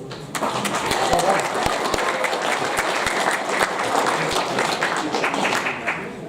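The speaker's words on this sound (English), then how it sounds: "A round of applause" Sustained applause from a sizable crowd at a school assembly, dense clapping that holds steady for several seconds with a few sharper individual claps standing out.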